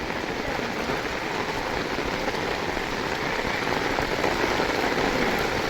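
Downpour of heavy rain over a village with flooding, a thick, unbroken roar of drops striking surfaces, steady and loud from start to finish without any voices.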